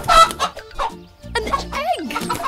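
Cartoon chicken clucking in a children's educational animation, a few short bright clucks and squawks near and loud, mixed with a voice talking over music.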